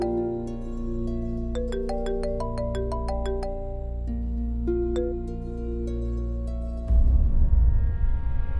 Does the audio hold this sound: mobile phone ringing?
yes